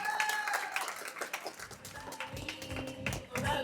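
Audience clapping at a film trailer launch event for Vaazha 2, a dense patter of hands filling the clip at moderate volume with crowd noise behind it.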